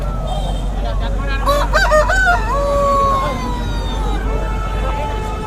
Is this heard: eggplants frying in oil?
no